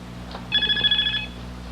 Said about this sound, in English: That's our phone.